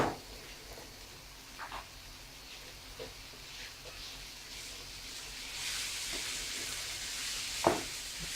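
Onion and a clove of garlic frying in hot oil or margarine, a steady low sizzle with occasional stirring scrapes, louder and hissier toward the end.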